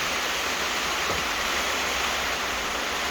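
Water pours and trickles steadily onto a flooded indoor floor, a continuous broad hissing wash with no clear pauses, fairly close and alone without voices.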